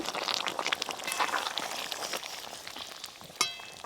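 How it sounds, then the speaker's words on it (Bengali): Black carp fish curry broth boils hard in a pan with a dense, continuous bubbling hiss, close and fairly loud, ending with a brief sharp clink. "এই দেখুন ঝোল কিন্তু খুব ভালো করে টকবক হয়ে ফুটে গেছে।"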